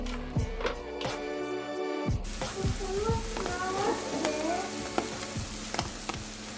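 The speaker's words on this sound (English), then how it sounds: "I'm just gonna go ahead and fry up a few pieces" Halloumi slices fry in a pan with a steady close sizzle, broken by sharp pops and utensil clicks as the pieces are moved.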